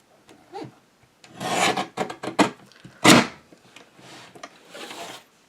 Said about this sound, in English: The reason I'm using this trimmer is because I'm cutting 2 thicknesses of cardstock.